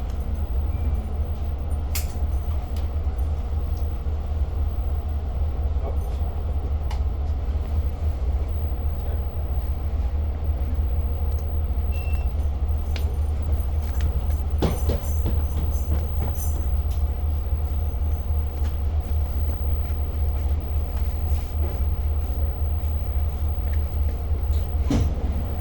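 A Long Island Rail Road commuter train runs between Oyster Bay and Jamaica, its steady low rumble and rolling wheel noise filling the car with occasional clanks and faint squeals throughout.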